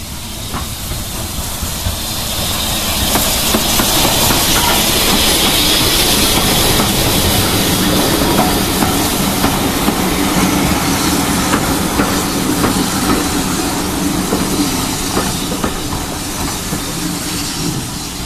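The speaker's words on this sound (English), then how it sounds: "you're at Holt with your steam train now arriving?" Steam locomotive 92203 Black Prince pulling a three-coach train into Holt station, a loud, continuous roar of hissing steam and rolling wheels with faint rhythmic rail clatter that swells and then eases slightly.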